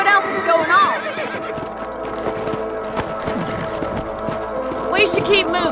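Horses whinny and hooves clip-clop in the Red Dead Redemption video game, a couple of neighs at the start and end over steady trotting hoofbeats, with game voices talking throughout.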